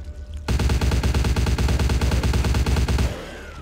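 Rapid automatic gunfire from a weapon in the video game Vampire The Masquerade Bloodlines, a loud, continuous burst of evenly spaced shots lasting about two and a half seconds, then a short fading tail.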